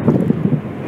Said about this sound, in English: a kind of windy, misty, slightly rainy day